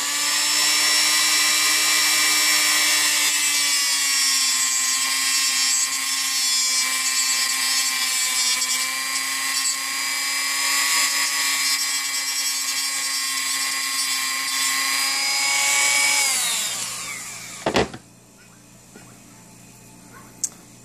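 A small high-speed rotary power tool grinds a notch into a plastic mini doll head, a loud steady whine that holds for about sixteen seconds, then spins down and stops, followed by a couple of faint clicks.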